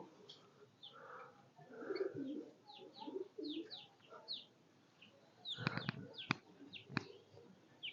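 Pigeons kept on a rooftop make a series of soft, rounded coos close by, then sharp clattering taps and wing flutters near the end, with faint voices far off.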